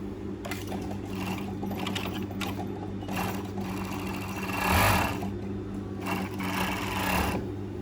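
A five-thread overlock sewing machine runs steadily in a near, continuous mechanical hum, swelling briefly louder around the middle, with no talking.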